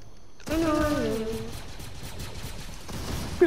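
A stormtrooper blaster fires in Fortnite, a rapid string of bursts that sustains for several seconds under someone talking, close and fairly loud.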